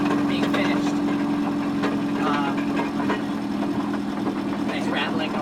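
A 1964 Volvo Amazon 122 estate, a barn find, idles with a steady mechanical rattle and low engine hum at moderate level, continuous throughout, with people talking faintly over it.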